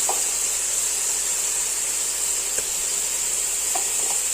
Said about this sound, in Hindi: चिकन फ्राई हो रहा है।